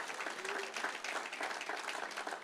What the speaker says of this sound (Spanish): Vamos a darle un aplauso a Jesús